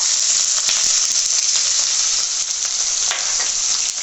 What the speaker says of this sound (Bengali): এরপর যে আমি এখন দিয়ে দেবো পেঁয়াজ কুচি।